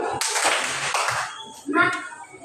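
A classroom of pupils claps together during a concentration game before group work, a dense burst of hand claps that fades, then a voice rises briefly over the quieter room.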